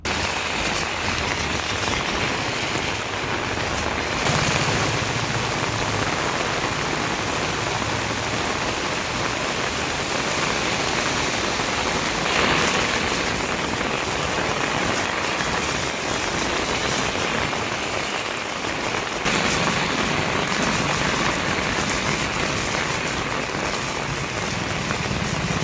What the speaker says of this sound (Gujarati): દમણ અને દાદરા નગર હવેલીના અનેક વિસ્તારોમાં આજે વરસાદ વરસ્યો હતો.